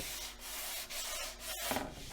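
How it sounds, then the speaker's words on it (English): Steady rubbing strokes of a fine-grit sanding block on a wooden porch sign board, soft and close, with brief pauses between passes. "I have another sanding block that has a lighter grit and you can hear a little roughness"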